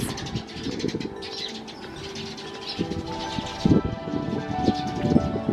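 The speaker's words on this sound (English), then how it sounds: "There's a little path of birds. There's so many birds." Pigeons coo repeatedly at a shrine in Tokyo, with several soft, low, rhythmic calls close by and a few faint chirps and rustles in the background.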